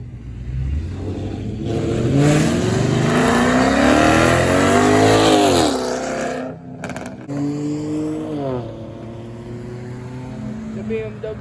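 BMW cars revving and accelerating hard at a cars and coffee meet: a loud engine pull climbs steadily in pitch, cuts off briefly, then another engine note follows more steadily, with crowd voices underneath.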